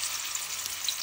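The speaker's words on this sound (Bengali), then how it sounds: "এখন এটা ভাজি করব।" Eggplant slices frying in hot oil, a steady close sizzle with constant crackle and bright hiss and no pauses.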